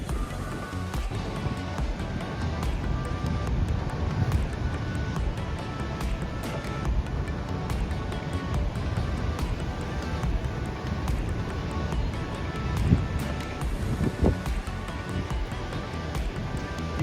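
On a chilly, windy, overcast January day at Myrtle Beach, a steady, dense roar of wind and ocean surf carries on without a break. It is loud and close throughout.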